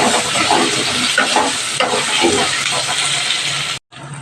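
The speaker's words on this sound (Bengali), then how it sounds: "গাঠি কচু আর পেঁয়াজটা ভাজা হয়ে গেছে" Taro and onion frying in a pan with salt and turmeric, a loud continuous sizzle with scraping and stirring strokes throughout, broken by a brief cut near the end.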